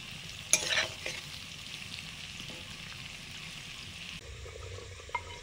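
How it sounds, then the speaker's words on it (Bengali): Pointed gourd and pumpkin frying in a pan while being stirred: a steady soft sizzle throughout, with a sharp scrape of the utensil near the start and a faint clink toward the end, no talk. "আর কুমড়ো ভাজছি।"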